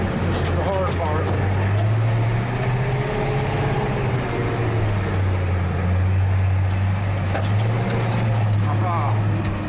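A skid steer with a clogged fuel filter grinds uphill through mud, its engine a steady, close, loud drone that rises and falls slightly as it works and spins its tires.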